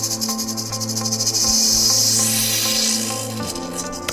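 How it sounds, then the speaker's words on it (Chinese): A movie-style rattlesnake rattle sound effect plays as a loud, continuous buzzing hiss with a chirping, insect-like tone, steady for several seconds with a brief dip near the end. "现在让我们来听听电影中响尾蛇的声音。"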